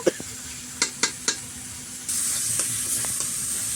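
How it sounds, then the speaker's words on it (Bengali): Minced meat fries with spices in a pan, opening with a few sharp knocks of a spoon on the pan, then settling into a loud, steady, close sizzle as it is stirred. "এটা আমি ভালো করে মশলা দিয়ে কষে নিচ্ছি"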